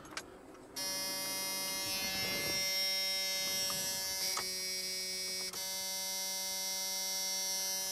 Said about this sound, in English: Could swore I just heard the fuel pump.